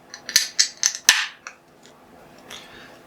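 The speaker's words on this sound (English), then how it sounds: "So let's crack her open" A can of Beavertown Neck Oil beer is cracked open, giving a quick cluster of sharp metallic clicks and one bright hissing pop, followed by a quieter fizz, close and alone.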